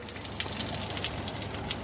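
Steady rain patters down continuously, a dense hiss of drops striking a surface with no voices.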